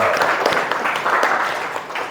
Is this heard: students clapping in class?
yes